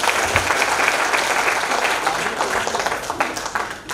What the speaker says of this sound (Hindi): जोरदार ताली हो जाए आपके लिए